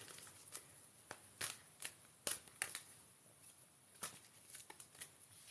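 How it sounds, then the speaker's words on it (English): A deck of unicorn tarot cards is shuffled in short, faint riffling bursts with quiet pauses between, close and alone. "we'll shuffle the cards for the second unicorn"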